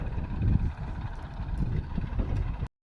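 Tractor engine chugging nearby in a village setting, a steady low rumble with some wind buffeting, fairly faint, cutting off abruptly.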